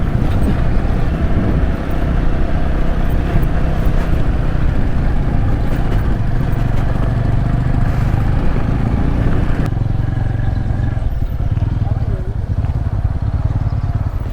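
Motorcycles riding offroad on a morning group ride, with steady engine drone and heavy wind buffeting on the microphone throughout.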